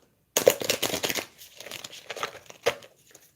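A deck of oracle cards is shuffled by hand in a few quick papery riffling bursts with crinkly rustles, close and fairly quiet, followed by a short pause and one final snap of cards.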